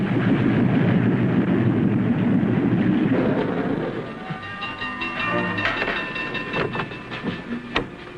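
A moving passenger train rumbles steadily with a dense roar, then settles into quieter rattling and clicking of carriages with sharp metallic ticks, heard up close from on board.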